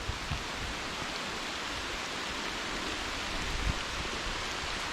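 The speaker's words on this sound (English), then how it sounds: "I'm gonna see what this rain does" Steady rain falls on a wooded hiking trail, a constant even hiss with a few faint drips or rustles, no voices.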